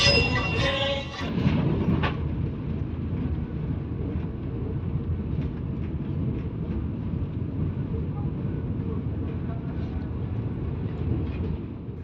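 Vande Bharat train running on rails, a steady low rumble of the carriage in motion heard from inside, continuous and even throughout with a brief louder rattle near the start.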